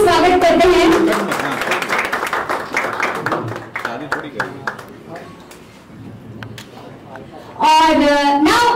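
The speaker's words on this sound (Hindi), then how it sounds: "जोरदार तालियों से स्वागत करते हैं" Audience applause welcoming guests onto the stage at a song success celebration, a dense sustained clapping swell that fades into the background as someone talks over the room, then a loud voice returns at the end.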